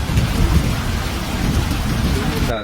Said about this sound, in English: Tropical Storm Ivo has caused heavy rainfall in the city of Tepic, Nayarit, Mexico